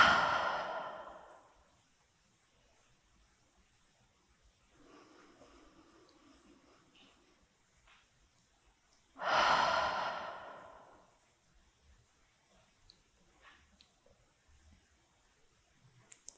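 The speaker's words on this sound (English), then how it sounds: "Take 2 more deep breaths" Two deep, slow exhalations during a relaxing upper-body yin yoga session, each a breathy open-mouthed sigh, with a quiet pause and a faint inhale between them, close and intimate.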